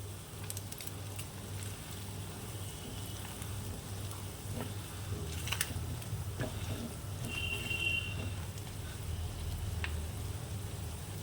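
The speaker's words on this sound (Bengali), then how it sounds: "দুধের সরটাকে তুলে নিয়ে এরকম কড়াই ফ্রাই প্যানে দিয়ে দিয়েছি। এরকমভাবে কন্টিনিউ নাড়তে হবে।" Milk cream fries in a kadai to make ghee, giving a steady, close sizzling crackle with occasional scraping clicks from continuous stirring, and no voices.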